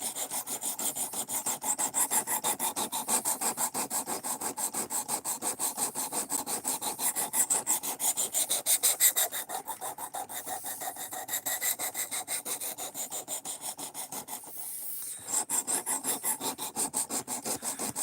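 A knife blade, a Tenacious or ACR 13, is drawn repeatedly across a sharpening stone to raise a burr, giving a close, steady run of rhythmic rasping strokes with one brief pause near the end.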